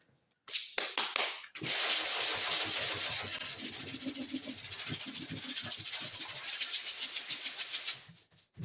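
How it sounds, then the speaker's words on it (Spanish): Steady, close rasping of sandpaper rubbed back and forth over filler on hail-dented car bodywork for several seconds after a few short preliminary scrapes, loud and continuous. "Seguimos con la misma lija."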